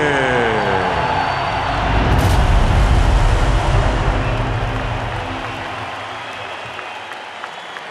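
An arena crowd roars and applauds before a heavyweight title fight between Oleksandr Usyk and Daniel Dubois, a loud dense wash of cheering that swells then slowly fades, with a commentator speaking over it.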